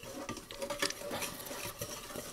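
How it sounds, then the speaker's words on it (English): Egg mixture for French toast is whisked in a bowl, a quick, irregular run of soft clicking and swishing strokes, close and fairly quiet, with no voices. "we are going to whisk it up"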